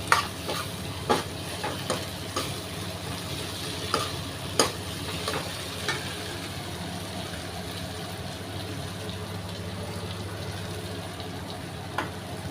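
Vegetables with turmeric roast in a pan under a continuous low sizzle, with a series of sharp spoon scrapes and knocks as they are stirred, fewer toward the end.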